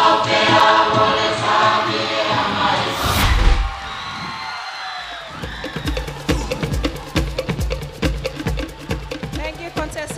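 Audience at the Digicel Miss Samoa 2023 pageant cheering and whooping over music, then breaking into loud, sustained clapping that pulses steadily through the second half.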